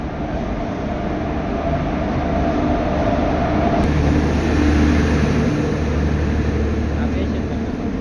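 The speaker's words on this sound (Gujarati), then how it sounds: "ટ્રેન આવી ગઈ છે હવે." A train rolls into a station with a steady, loud rumble and a low mechanical hum that persists throughout, without clear breaks.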